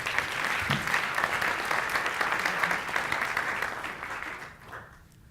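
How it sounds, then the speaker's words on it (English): An audience at a science communication competition final applauds a contestant, a warm, steady round of clapping from a crowd that carries on evenly and then fades away into quiet. "Give her a warm round of applause, please"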